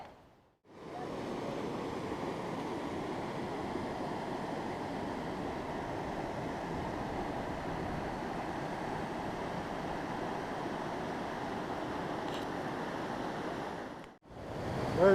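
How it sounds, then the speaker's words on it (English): Creek water rushing over and among boulders at Fossil Creek, a steady, dense roar that holds constant and fairly close for about fourteen seconds with no voices. "You can see the water's running good, making lots of noise."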